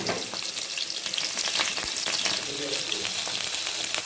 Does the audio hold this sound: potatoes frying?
yes